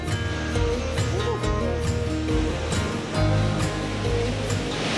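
Waterfall in the Mindo cloud forest, Ecuador, heard up close as a loud, steady roar of rushing water with broad surf-like wash and a few swells, continuous throughout.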